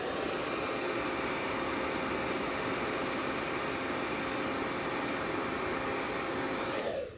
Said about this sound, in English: I take my blow dryer on a medium warm, medium speed, and I blow the lashes up